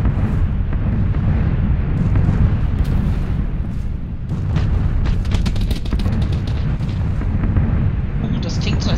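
Gunfire and explosive booms in the PLAYERUNKNOWN'S BATTLEGROUNDS battle royale game, a dense barrage of heavy bursts and cracks over a rumbling low end, loud and continuous, with players chatting over it.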